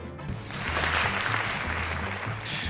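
Studio audience applauding at a youth television program, a dense burst of clapping that swells and holds for a few seconds.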